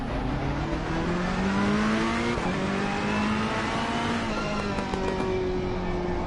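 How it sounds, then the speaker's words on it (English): A race car in Assetto Corsa Competizione at Donington screams through its gears, pitch climbing repeatedly with each shift, loud and continuous. "you definitely should hear the car more"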